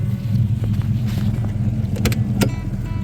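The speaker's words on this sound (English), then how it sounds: "so I got to leave my truck running." A truck engine with a dead battery idles steadily up close, a low continuous rumble with a few faint clicks and rattles on top.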